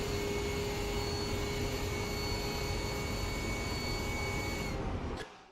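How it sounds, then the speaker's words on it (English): A racing car engine in a sim racing game drones at a steady, sustained pitch with a whining tonal edge, holding constant and loud before cutting off abruptly at the end. "this is the engine noise that we'll basically be hearing the whole race"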